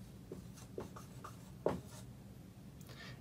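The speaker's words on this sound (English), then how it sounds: "I'm going to write that here. Genus, our genus is Homo." A marker scratches a word onto a classroom board in several short strokes, close and fairly quiet over a steady low room hum, with no talking.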